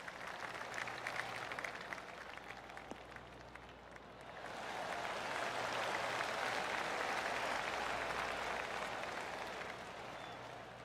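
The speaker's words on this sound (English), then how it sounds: "I can hear the golf claps around the course." Crowd golf claps around the course in the video game PGA TOUR 2K25, light quiet ambience giving way to a swelling, sustained wash of polite applause that holds steady, then tapers slightly.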